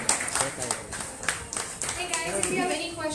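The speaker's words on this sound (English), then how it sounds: "And one last round of applause for Maggie Wilson." An audience at a show claps in a brief burst of applause, with a person talking over it.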